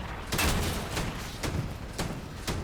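Gunfire in the vehicle combat game Crossout, four or five heavy booming shots spaced roughly half a second apart over a continuous rumbling background.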